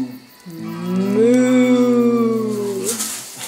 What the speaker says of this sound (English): Moo. A cow.